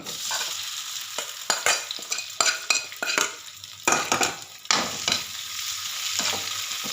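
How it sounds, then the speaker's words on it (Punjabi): Fried potatoes tipped into hot oil with a little parwal and stirred, a steady sizzle broken by repeated scraping and clattering strokes of a spoon against the pan, close and fairly loud. "ਥੋੜਾ ਜਿਹਾ ਪਾਵਾਂਗੇ ਆਇਲ ਤੇ ਵਿੱਚ ਪਾ ਦਾਂਗੇ ਫਰਾਈ ਕੀਤੇ ਹੋਏ ਜੋ ਆਲੂ ਸੀ"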